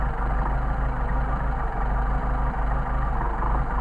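A Mercedes-Benz 190SL engine idles steadily nearby during carburetor testing, a low, even rumble with no voices.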